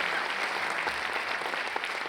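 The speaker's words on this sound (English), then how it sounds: "How about a round of applause for the technicians working their asses off tonight?" An audience applauds the technicians at an anniversary celebration show, a thick, continuous roar of clapping held at even strength throughout the brief moment.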